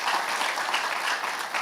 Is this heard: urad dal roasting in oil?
no